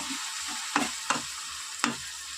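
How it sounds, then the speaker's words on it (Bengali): Fish simmering in a little water in a pan, with a steady soft sizzle and three sharper clinks or stirs breaking through, close and moderately quiet. "এই জলের মধ্যেই কিন্তু আমি মাছটা দিয়ে দেবো"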